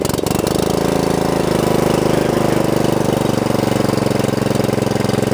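The engine of a Craftsman R110 riding lawn mower runs loud and close, with a steady rapid chugging throb throughout and a few sharp clicks near the start.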